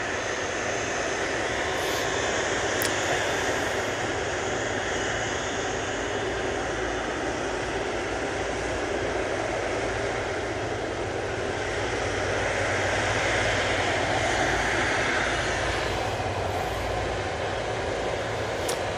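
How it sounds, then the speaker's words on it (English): An Airbus A330 at Manchester Airport gives a continuous loud jet roar that rises and falls slightly over the stretch, steady and near, with no one talking. "And there's that beautiful A330."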